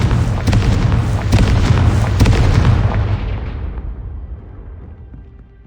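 A Confringo blasting spell bursts in Hogwarts Legacy with a loud, booming explosion and a few sharp cracks, then a long rumble that slowly dies away.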